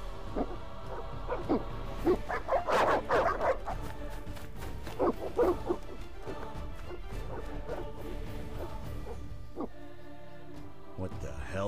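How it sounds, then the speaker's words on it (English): Hostile dogs in The Witcher video game bark and growl in a burst of overlapping, fairly close barks amid crashing game sounds and music, with a voice speaking in the scene. "They're evil dogs."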